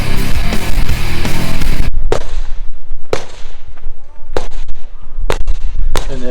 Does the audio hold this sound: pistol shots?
yes